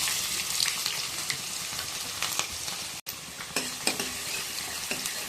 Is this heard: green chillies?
yes